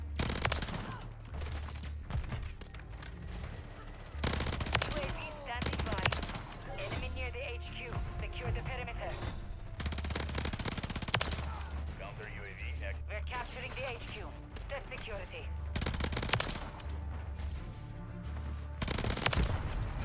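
Rapid automatic gunfire bursts repeatedly through a Modern Warfare 3 multiplayer match with a rapid-fire BP50 rifle, loud chattering volleys separated by brief gaps, alongside in-game voice callouts.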